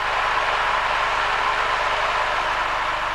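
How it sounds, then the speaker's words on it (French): Light aircraft engine idling during a pre-departure check, a steady, even drone with constant loudness and no voices throughout. "Maintenant on teste le ralenti."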